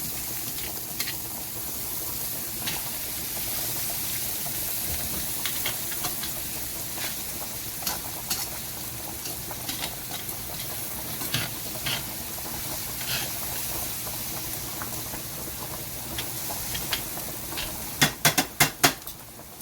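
Garlic sizzles in a pan while being stirred, a continuous frying hiss broken by scattered utensil clicks and a quick run of sharper clatters near the end.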